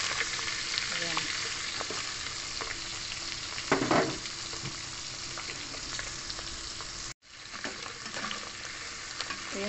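Daing and tuyo, dried salted fish, frying in oil over lowered heat, giving a steady close sizzle with scattered pops and spatters and a brief stir; no talking.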